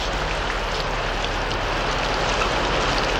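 Rain falls and water flows in a sound effect, a dense steady hiss of downpour with a low rushing wash beneath, constant and loud throughout.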